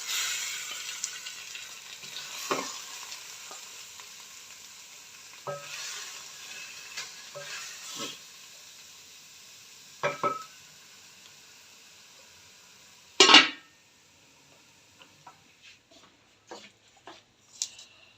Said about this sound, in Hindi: अब मैं इसको डिश आउट करती हूँ, चूल्हे को करती हूँ बंद